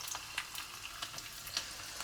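Faint, steady sizzling of mustard and fenugreek seeds spluttering in hot oil for tempering a fish curry, with small scattered pops crackling over a soft hiss.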